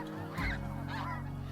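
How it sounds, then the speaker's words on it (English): Snow geese honking overhead in a migrating flock, a steady stream of loud overlapping calls with a few stronger honks standing out, no talking. "endless giant V's of snow geese streaming overhead, accompanied by constant honking"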